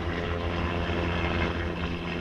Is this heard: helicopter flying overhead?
yes